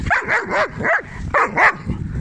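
Several dogs bark in an excited, irregular run of sharp yips and barks, close and loud, while four dogs are being walked together on a group outing.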